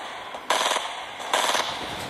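Automatic gunfire in the video game Fortnite comes in two loud, dense bursts, each lasting about a quarter second, separated by a short pause over steady game background noise.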